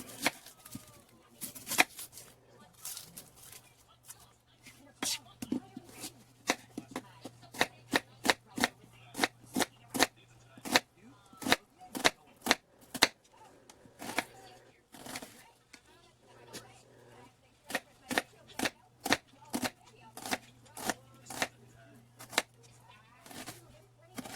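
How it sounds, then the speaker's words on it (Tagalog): Knife chopping onions on a cutting board, a long run of sharp, rhythmic cuts in quick bursts under a low steady hum, while someone talks in between during a noodle soup cooking session. "Maghiwa tayo ng sibuyas."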